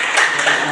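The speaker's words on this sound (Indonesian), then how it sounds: "tepuk tangan dulu untuk teman-teman" Classroom applause for fellow students, a brief patter of many hands clapping together at close range, fairly loud with no voice over it.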